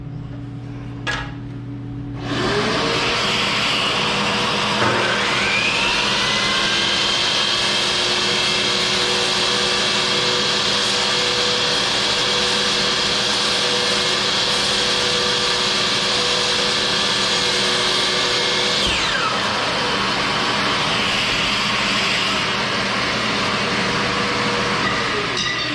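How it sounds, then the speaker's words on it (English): A shop vacuum running in a woodworking workshop while cutting parts for a lighthouse model, starting up after a brief click and roaring steadily at close range for most of the time, with a tonal whine and a cutting noise midway before it winds down. "The vacuum sucked it up."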